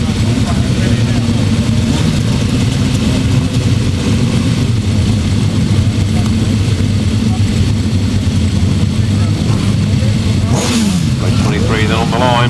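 1000cc right-hand sidecar outfits racing on a grasstrack, a loud continuous engine roar with revving and passing whines, and a commentator talking over the din.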